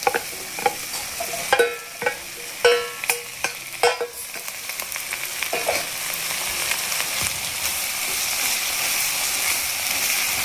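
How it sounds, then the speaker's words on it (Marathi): Beef dropped into a hot pot for a Goan pork and beef stew, with sharp clanks of a spoon stirring early on, then a steady loud sizzle of frying meat filling the rest. "आला आता मी घालताय बीफ"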